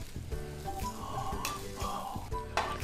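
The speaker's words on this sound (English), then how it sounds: "So you hear that sizzle?" Breaded chicken Milanese sizzles in a frying pan on a stovetop, a soft, steady crackle with faint clinks of utensils against the pan.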